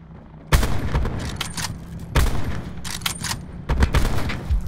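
Gunfire in Call of Duty Blackout comes in three loud, close bursts of rapid shots, each cracking out and trailing into rattling echoes, with no voices over it.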